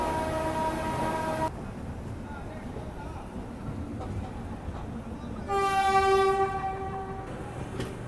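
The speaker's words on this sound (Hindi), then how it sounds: "बिल्कुल हॉन्किंग जो है वो हो चुकी है" The Tamil Nadu Express sounds its horn as it departs at night, a loud sustained blast that stops and then returns about four seconds later, over the rumble of the station.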